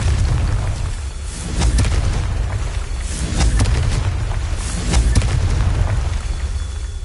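A Confringo fire spell bursts in Hogwarts Legacy, giving deep booming explosions that roll through a loud, dense rumble over several seconds, with repeated impacts and a thick low-end tail.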